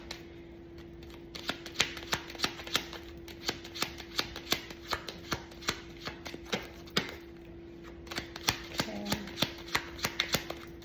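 Playing cards handled and shuffled up close, a steady run of crisp flicks and snaps at an even pace over a faint constant hum.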